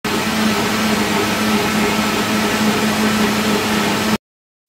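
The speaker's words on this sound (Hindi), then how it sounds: "मिल्क डालने के बाद इसको बस मैंने थोड़ी देर के लिए फिर से ब्लेंड किया है" A blender whirs steadily as it mixes cold coffee with milk, a loud and continuous motor hum that runs for about four seconds and then stops abruptly, with no talking.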